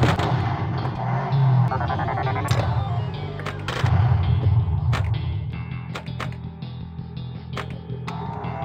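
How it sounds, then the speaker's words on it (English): Explosion effects and rattling bursts from a Stern Last Action Hero pinball machine (1993) ring out loud and dense, with several sharp hits over a continuous roar of game audio. "Here's another explosion for your movie kids."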